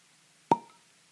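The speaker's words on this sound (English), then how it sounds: "I gotta give it the cork pop though." A cork pulled from a bottle of Old Ezra bourbon gives a single sharp, close pop with a brief hollow ring in an otherwise quiet room.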